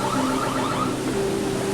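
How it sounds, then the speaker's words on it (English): A burglar alarm going off outside a house, a loud steady electronic wail with rising and falling tones that holds throughout, with no voices. "That's a burglar alarm?"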